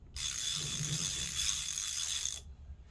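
A socket ratchet wrench clicks in one rapid continuous run for about two seconds, close and crisp, then stops abruptly.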